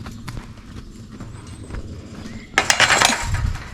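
A horse out on a trail ride moves with soft hoof thuds, then lets out a loud, bright whinny in the final second, fairly close.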